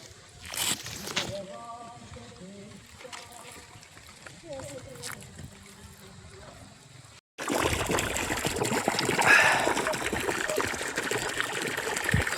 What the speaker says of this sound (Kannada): ಯಾವ್ದಾದ್ರು ಪೈಪ್ ಕಿತ್ತೋಗ್ಬಿಟ್ಟೈತೆ, ಫುಲ್ಲು ನೀರು ಹೋಗೈತೆ.